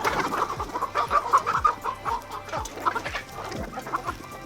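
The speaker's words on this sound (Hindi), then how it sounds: "100 के करीब मुर्गे और मुर्गियाँ सब मिक्स मौजूद हैं" Several Australorp chickens cluck close by in short, irregular bursts, with soft thuds and low rustling in the background, in a flock of about 100 birds.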